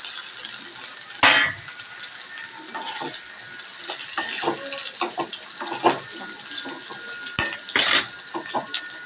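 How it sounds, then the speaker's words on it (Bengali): Fried potato and paneer tossed into a kadai set off a steady, close sizzle, punctuated by clanks of a spoon against the pan and bursts of louder spattering. "আমি ভেজে নেওয়া আলু পনির সবটাই এখন এই কড়াইয়ের মধ্যে দিয়ে দিলাম একসাথে"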